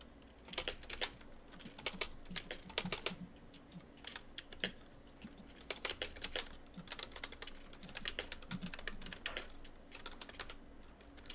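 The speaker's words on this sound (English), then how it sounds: "I'm typing." Rapid clicking from typing on a computer keyboard comes in uneven bursts and pauses throughout, close and fairly quiet, with no talk over it.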